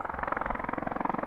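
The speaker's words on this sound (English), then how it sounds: "Oh, I wish this helicopter would get lost." A helicopter passes overhead above open fields, its rotor giving a steady, rapid thudding beat at moderate distance, with no other sound over it.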